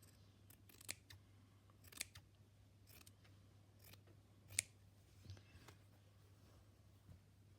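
Scissors snipping through old fabric in a quiet room, a handful of sharp, separate cuts spaced over several seconds, close but soft against a steady low hum.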